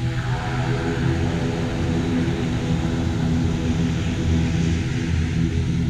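A roomy American Bell helicopter in flight at an airport in Nepal, bound for mountains at 3,300 metres, giving a constant loud rotor and engine drone that holds steady throughout.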